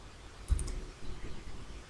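A single soft mouse click on a play button, close and quiet, standing alone against faint room noise.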